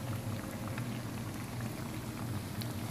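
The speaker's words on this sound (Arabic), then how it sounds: "الطعميه هي بنحمرها او بنقليها" Falafel frying in hot oil, a close, continuous rain-like sizzle and bubbling that stays steady throughout with no one talking.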